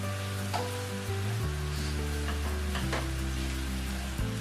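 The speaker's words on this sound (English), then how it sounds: "Give it a nice stir." Spiced goat meat for asun, a spicy fried Nigerian dish, is stirred in a hot pan, giving a steady close sizzle with a few light scraping accents over a low hum.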